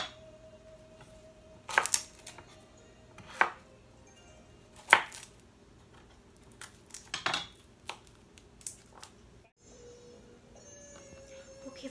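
Chili and garlic are pounded in a mortar for fish sauce, giving sharp, separate thuds at irregular intervals over a quiet kitchen background, with a few softer knocks in between.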